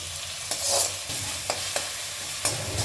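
Food sizzles and fries steadily in a pan while sautéing for Kumbakonam kadappa, with a few sharp scraping stirs of a utensil breaking through the hiss.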